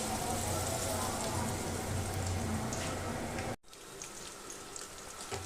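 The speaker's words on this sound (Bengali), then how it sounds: "গরম তেলের মধ্যে দিয়ে দেব আর বেশ কড়া করে ভেজে নেব" Chicken snacks deep-fry in hot oil with a dense, rain-like bubbling crackle that drops in level partway through and carries on more softly.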